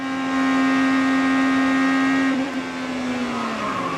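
An IndyCar's engine screams at high, steady revs as heard onboard at speed on the Indianapolis oval, loud and close, then the pitch wavers and drops briefly before holding again.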